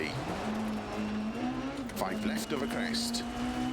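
A rally car in the Dirt Rally 2.0 video game races downhill with its engine droning steadily and its pitch slowly climbing. Jumps bring brief bumps and thuds, and someone talks over it.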